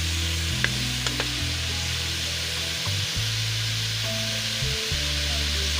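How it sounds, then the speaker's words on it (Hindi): Garlic and ginger paste fries in a pan with a soft, continuous sizzle beneath a low steady hum, broken by a few light taps and scrapes of stirring. "ये लहसुन अदरक फ्राई हो गया"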